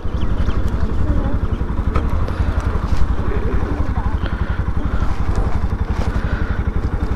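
A Bajaj Pulsar NS200 motorcycle engine drones steadily and loudly throughout while riding on the road, with a rapid rumbling pulse, wind and road rattle and occasional faint voices underneath.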